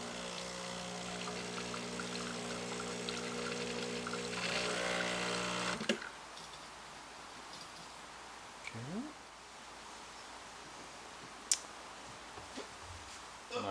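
An espresso machine pumps hot water to warm a cup, a steady loud droning hum for about six seconds that then stops, followed by quieter room sounds and a few small clicks.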